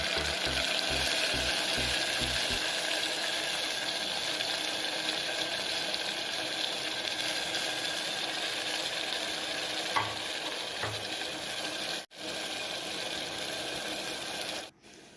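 Ground masala fries with browned onions in a pan, a steady close sizzle running throughout, with a few clicks and stirring knocks early on and brief dips near the end.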